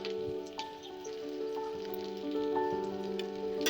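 Whole cumin seeds and halved dried red chillies crackle and sizzle steadily in hot oil with onion, a continuous close hiss throughout.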